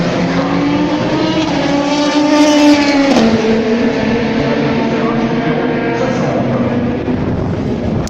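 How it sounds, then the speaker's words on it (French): Race cars run during the 2019 Le Mans 24 Hours test day. A loud engine snarls close by, and its pitch drops sharply partway through as a car passes, then sustained engine roar continues. "Toutes les voitures qui passent feront un tour."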